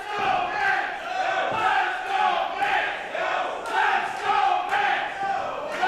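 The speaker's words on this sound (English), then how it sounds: "Crowd firmly in the corner of Mance Warner, trying to will their fighting champion back into this contest" A pro wrestling crowd cheers and shouts in surging waves at a steady loud level, filling the arena with rhythmic swells and no clear lone voice.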